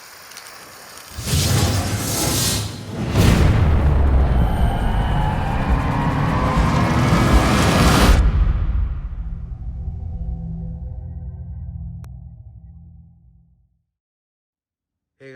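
A Fire Hawk emoji spinner firework going off: a loud hissing, crackling spray of several seconds with surging bursts, then a fading whine and rumble before silence.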